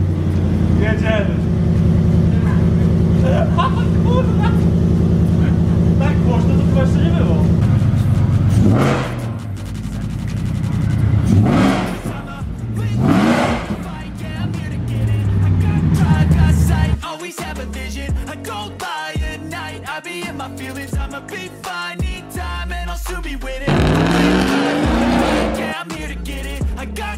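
A car drives and accelerates with a steady engine drone, shifts, and then revs hard in short bursts, with people talking loudly inside over the engine noise.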